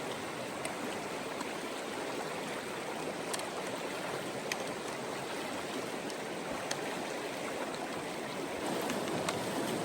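Glacier-fed creek water rushes and burbles continuously, a steady broadband flow with faint splashes and no talking.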